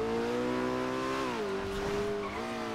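A Lamborghini Gallardo engine in GTA 5 drones steadily at high revs, its rising and falling pitch shifting as the car drives, with faint tire noise underneath and no talking.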